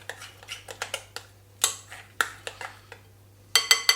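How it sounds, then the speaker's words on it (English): Metal spoon clinking against a bowl while smoked mackerel pâté seasoned with Colman's mustard is mixed, a series of sharp, close taps in irregular bursts with short pauses between them. "Just give it a good old mix up."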